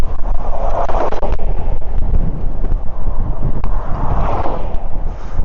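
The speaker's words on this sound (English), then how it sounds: "Battling into a cold, strong headwind." A strong, cold headwind buffets the microphone of a cyclist riding on a road, making a loud, steady roaring rumble that barely lets up, with no talking.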